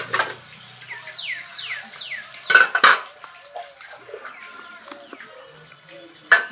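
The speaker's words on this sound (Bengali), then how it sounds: "আমার বাসন মাজা কমপ্লিট হয়ে গেছে। আমি এগুলো এখন আস্তে আস্তে ধুয়ে নিচ্ছি পরিষ্কার করে।" Washed dishes being rinsed clank and clatter in a few sharp bursts of metal and cutlery, with faint water and birdsong between them and a rooster-like call in the background.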